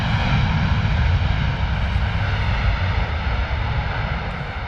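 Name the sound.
Ryanair airliner landing at London Stansted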